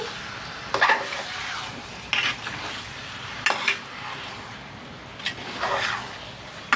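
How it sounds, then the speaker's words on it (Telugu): Chicken frying in a wide pan, with a steady low sizzle under intermittent scraping and stirring bursts from a utensil moving the pieces around, close and moderately loud. "చికెన్లో నుంచి వాటర్ వచ్చి ఆ వాటర్ అంతా ఇంకిపోయే వరకు అయితే ఈ చికెన్ ఫ్రై అయితే చేసుకోవాలి మనం"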